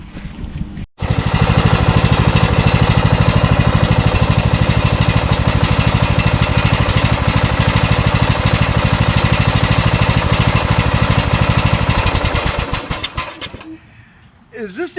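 A Craftsman LT1000 lawn tractor fitted with a rebuilt Briggs engine runs loudly and steadily, close by, for most of the stretch. It starts after a brief gap and drops off near the end.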